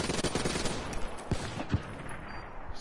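Rapid gunfire in a PS4 video game, a dense burst of shots followed by a few sharper, isolated cracks that fade toward the end.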